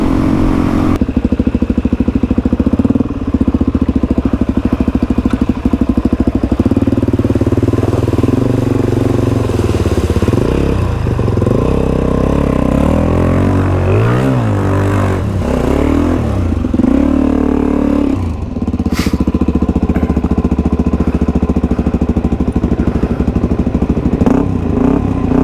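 A Suzuki DR-Z400E dirt bike engine drones and revs continuously while crossing a creek, the pitch surging and wavering as it labors, loud and close throughout.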